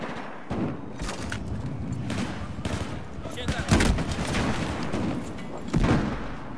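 Gunfire in Battlefield 4 on the Dragon Valley map, a dense stretch of rapid shots and heavier booms, loud and continuous, with a voice talking over it.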